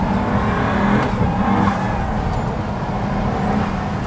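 A Pagani Huayra's twin-turbo engine spools up loud and close on a narrow Italian mountain pass, a steady, dense roar with a sustained low drone and no pause.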